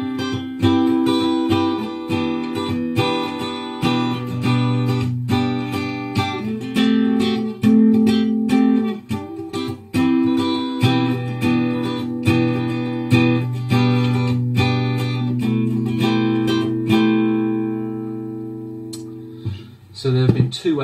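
Electric guitar riff from a song with the bottom two strings muted: choppy low notes and ringing higher strings, played steadily and up close, fading out at the end.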